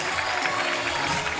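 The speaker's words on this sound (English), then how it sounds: "this Lincoln Heights crowd, they're all standing up, and they are fired up just like the Warriors are" Fired-up crowd at a high school basketball district final in a gym, loud sustained cheering and applause filling the whole moment with a dense roar.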